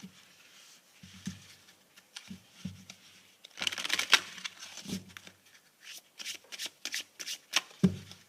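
Tarot and oracle cards are shuffled by hand, giving close, irregular riffling and soft patting bursts with denser flurries midway and toward the end, no talking.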